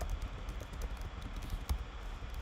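Typing on a computer keyboard, a steady stream of light, close key clicks with no voices over it.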